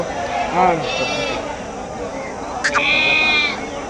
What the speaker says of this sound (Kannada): ಇವೆಲ್ಲ ಕಪ್ನಿ ಕುರಿ ಬರ್ತಾವಲ್ಲ?